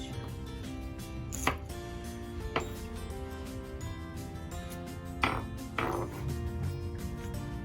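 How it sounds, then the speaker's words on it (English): Knife chopping iceberg lettuce for a Jamaican-style chicken garden salad, a few sharp separate cuts on a board, close and moderately loud over soft kitchen background, with no talking. "So you can chop your lettuce based on your liking."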